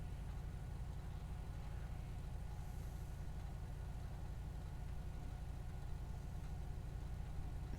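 Police traffic-division car idling in a video game, a quiet steady low engine hum running unchanged throughout with no talk.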